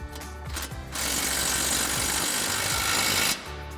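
A pneumatic impact wrench runs a 24mm socket to tighten the nuts on a Chevrolet Camaro front strut while lowering springs are installed. It gives one sustained, loud, buzzing burst of about two and a half seconds, close up, with no talk.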